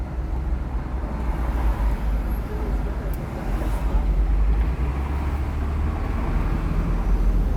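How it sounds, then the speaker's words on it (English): Steady rumble of street traffic in Los Angeles, with vehicles passing nearby, a continuous low roar throughout. "Must be noisy there because you're right on the street,"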